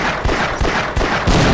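Rapid gunfire from Half-Life 2 Episode One, a close, loud string of sharp shots in an uneven burst rhythm, with no talking over it.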